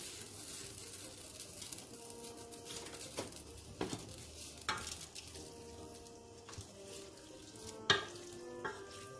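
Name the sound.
mussels deglazed with white wine, sizzling in pot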